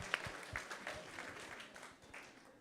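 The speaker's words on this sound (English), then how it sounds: "let's thank them in their absentia by loudly giving a round of applause." Faint, distant audience applause with scattered claps at a devotional talk, soft and diffuse, with a few sharper hits early on.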